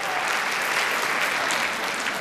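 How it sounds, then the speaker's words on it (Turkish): Steady applause from a television talent show studio audience, a dense wash of clapping hands that holds evenly throughout without pause. "Hani bir alkış."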